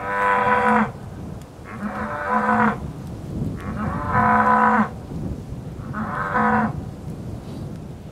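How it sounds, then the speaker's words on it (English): A bull in a sheep-country field gives four long, deep moos, loud and close, each lasting about a second with short pauses between, over light outdoor wind noise. "it's the resident bull, and he looks as if he's in a right hurry too"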